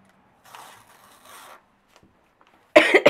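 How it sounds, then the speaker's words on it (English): Paper templates peel away from felt in a quiet room: a soft, drawn-out rustle first, then a short, louder ripping tear near the end. It sounds close, with no voices. "So once you've drawn those on, you can peel off the templates."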